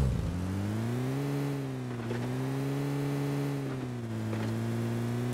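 A car driving in PUBG, its engine holding a steady droning hum with slight rises and dips in pitch, loud and continuous with no talk.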